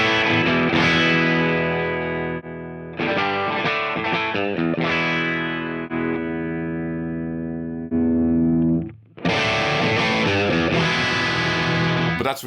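Electric guitar through a Bassman amp model with the boost off, playing sustained chords and picked phrases with a short pause near the middle, then a dense strummed passage to finish; no talking.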